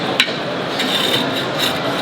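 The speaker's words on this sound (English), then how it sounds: "You start by moving the tiles" Clay rosemary roof tiles being shifted on a roof give a steady gritty scraping and rubbing, with one sharp knock near the start and no talking.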